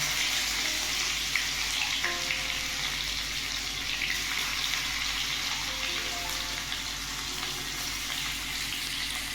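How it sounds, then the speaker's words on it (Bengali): Green chilies and crushed garlic fry in hot oil, a steady close sizzling hiss that continues evenly throughout with occasional faint crackles. "কাঁচা লঙ্কা ফোড়ন দিয়ে দিলাম আর রসুন ফোড়ন দিলাম"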